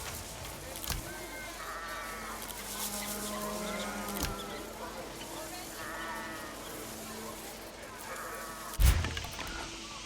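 Bird calls chirp and warble repeatedly through the Ara: History Untold strategy game soundscape, with short bursts spaced across the scene over a steady ambient bed, plus a couple of sharp clicks.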